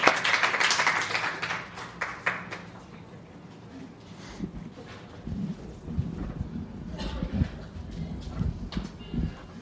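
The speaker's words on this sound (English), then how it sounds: "Please give a round of applause for Gerry." Audience applause for a storyteller at a live spoken-word event, a dense burst of clapping that starts loud and slowly thins out, with scattered louder claps and some murmuring voices near the end.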